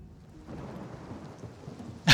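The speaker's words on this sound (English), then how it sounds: "it's just endless thunderstorm" An endless thunderstorm in the Oblivion Remake: low rumbling thunder and pattering rain murmur steadily at moderate level, ending in a sharp, loud burst.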